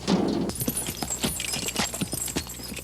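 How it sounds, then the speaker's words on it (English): Hooves of a team of dray horses clip-clop steadily while hauling heavy timber for building work on an old country estate, a regular close-by rhythm of hard strikes over low background noise. "A team of dray horses are removing the bigger timber for use in building work around the estate."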